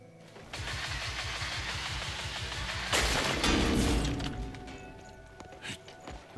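A mining drill in the video game Crimson Desert starts up with a chugging mechanical rattle that builds, surges with a loud grinding burst, then settles into scattered clanks.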